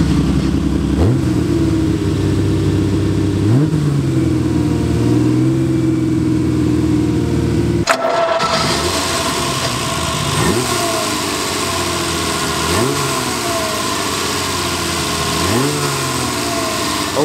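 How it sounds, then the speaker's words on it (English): A 1967 Ferrari 330 GTS Spider's 4-liter V12 revs repeatedly, each blip rising and falling over a loud, close idle, with a brief break partway through. "what you just heard was the 4-liter V12 engine"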